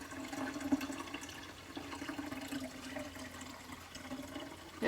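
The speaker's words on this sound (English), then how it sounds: "we just slowly dump so we don't overflow it out and waste the milk" Goat milk poured slowly from a pail through a strainer filter, a steady, soft watery trickle and splash that runs on evenly for several seconds at low level, ending in a brief louder swell.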